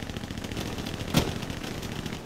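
Distant gunfire in Hell Let Loose rattles over a steady ambient battlefield rumble, with one sharper, louder shot standing out near the middle.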